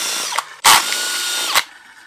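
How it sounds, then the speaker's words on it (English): A power drill spins a spray paint can with a mixing ball inside, a sustained whirring drone with sharp rattling surges as the drill starts and stops, loud and close. "I'm just kind of supporting it with my hand and loosely holding the drill. And that ball is just flying in there."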